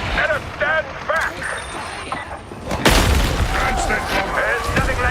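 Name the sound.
explosion breaking a wall in a video game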